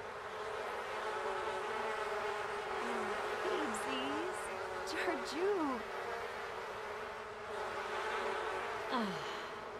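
Bees buzz in a farming and life-simulation video game: a steady insect drone runs throughout, with soft chirping tones and faint sighs layered over it.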